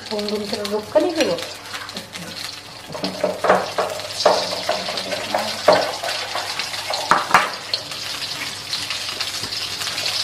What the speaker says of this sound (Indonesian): Sekarang langsung ini tumis dulu bumbu sama ayamnya